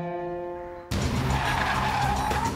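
Stock cars racing and skidding: a sustained tonal drone cuts abruptly into loud, close tire squeal and rushing engine noise that carries on to the end, with no voices.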